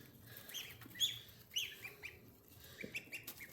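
Goslings peep and chirp in short, high bursts in a brooder, fairly faint, with quiet rustling in the background.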